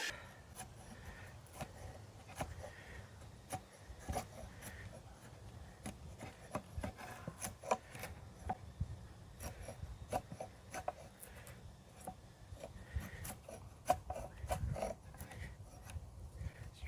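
Fine carving on wood with the sharpened edges of a compact CRKT Jenny Wren tomahawk, giving steady close scraping and rasping strokes in an irregular rhythm, with soft knocks now and then.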